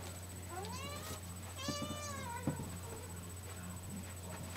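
Two drawn-out meows from an indoor cat come through at moderate distance, the second longer and rising, over a steady low electrical hum with no talking.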